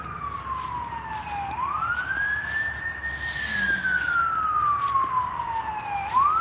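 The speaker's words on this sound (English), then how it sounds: "Ambulance. Somebody's headed here, guys." A wailing ambulance siren sweeps steadily up and down, moderately loud, as the vehicle passes a cemetery at night, with faint traffic rumble underneath.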